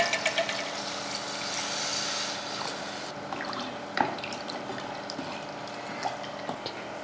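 Water pours and splashes into a pot for a few seconds, then gives way to faint drips and clinks nearby.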